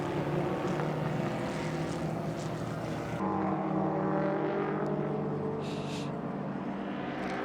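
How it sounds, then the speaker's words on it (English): Vintage race cars including a Fiat 128 SL and Triumphs lapping at Indianapolis during an SVRA event, producing a steady loud engine roar that drops and shifts partway through, with a faint whine later. "Last lap. 44, Jim Dentici in the Fiat 128 SL."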